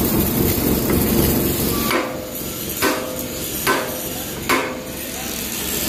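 Metal hammer blows drive out a pin on an excavator outdoors, four sharp clanking strikes spaced roughly a second apart over steady engine and background noise.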